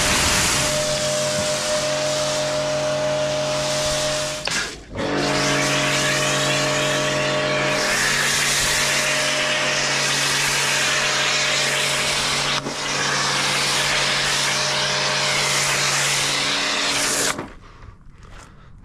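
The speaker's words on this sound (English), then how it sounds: "I need to get the jet wash and get some foam on it." Pressure washer jetting water over a barn-find classic VW Beetle abandoned for 30 years, a loud, steady roaring hiss with a steady motor drone underneath, briefly cut once, then stopping near the end.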